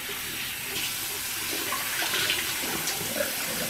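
Water runs from a bathroom tap during face washing, a steady splashing gush at close range that stays fairly level with small bursts of splatter, and no talking over it.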